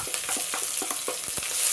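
Dried red chillies and crushed shallots frying with popped mustard seeds in hot coconut oil: a close, steady sizzle with rhythmic stirring scrapes, and no voices.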